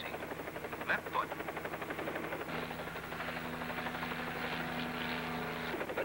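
A helicopter in flight with its engine throttled back slightly during a slow left turn, a steady droning rotor and engine hum that continues throughout, with a faint tonal whine joining midway.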